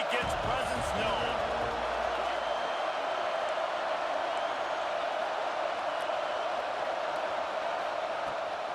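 A packed football stadium crowd in the NCAA 26 college football video game roars steadily, a dense, continuous wash of cheering that holds at a constant level and sounds full and close.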